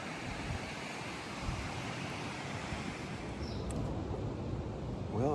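Ocean surf washing steadily onto a beach at a Mazatlán resort, a broad continuous roar of breaking waves with light wind, no voices, holding at a constant level throughout.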